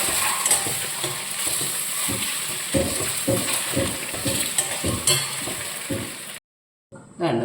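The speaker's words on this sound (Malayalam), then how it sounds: "നമ്മൾ മുട്ട ഇതുപോലൊന്ന് വഴറ്റിയെടുത്തിട്ടുണ്ട്. ഒരു മിനിറ്റ് എണ്ണയിലിട്ടൊന്ന് വഴറ്റിയെടുത്താൽ മതി." Eggs being sautéed in hot oil for an egg curry, a close crackling sizzle broken by scraping and clicking stirs, then a brief silence near the end before the sizzle returns.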